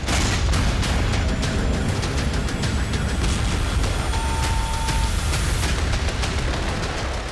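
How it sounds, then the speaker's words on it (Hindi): A dense, continuous roar of explosions at a Russian airbase, loud and sustained with many sharp cracks layered over a heavy low rumble. "एक के बाद एक धमाके देखे जाने लगे।"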